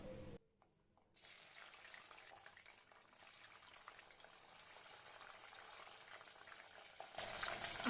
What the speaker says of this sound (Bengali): ওই তেলে দিয়ে দিচ্ছি 5-6টি শুকনা মরিচ মাঝখানে ছিঁড়ে, আর দিয়ে দিচ্ছি পাঁচফোড়ন